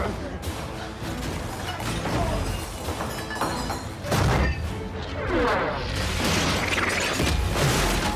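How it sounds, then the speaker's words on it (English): Cannon fire and crashing battle effects from the pirate film Pirates of the Caribbean: The Curse of the Black Pearl, a dense, loud barrage of booms and smashes with voices mixed in throughout. "do you not hear cannon fire popping off?"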